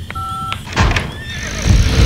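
In the Star Stable Online game, a horse taxi arrives with a couple of short electronic tones, a thud, and then a loud, close horse whinny rising and trailing off over a soft rumble.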